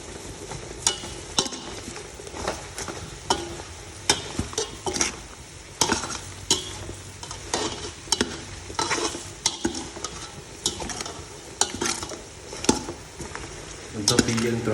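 Chicken stir-fried and flipped in a pot for a Cambodian soup with banana stem, heard as repeated irregular spatula scrapes and clanks against the metal over a steady, fairly quiet sizzle.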